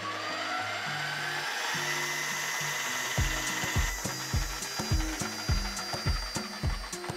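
A DIY electric motor conversion built from a Toyota Prius motor, run up on the throttle: a rising whine gives way to rhythmic clunking and ratcheting pulses, close and mechanical, with no voices.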